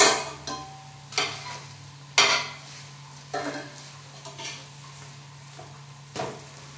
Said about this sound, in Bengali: এবার আবার গুলিয়ে দিচ্ছি